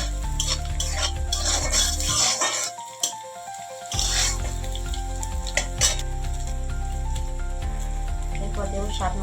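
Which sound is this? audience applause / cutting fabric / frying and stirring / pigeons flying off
frying and stirring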